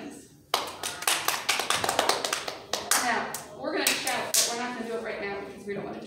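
A crowd of people clapping their hands in church, a dense, fast run of loud claps that continues almost without pause, with voices mixed in.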